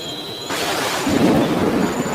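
A sudden burst of heavy downpour and rumbling thunder fills the air, a dense continuous roar that swells after a quieter start.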